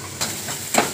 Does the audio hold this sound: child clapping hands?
no